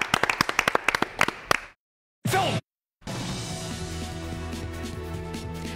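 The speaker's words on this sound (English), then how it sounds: "Let's give them all a big round of applause" Sharp, close individual claps ring out in a quick uneven run at a TV news desk celebrating award winners, then break off abruptly into silence. Brief cut-ins of other sound and steady studio tones follow.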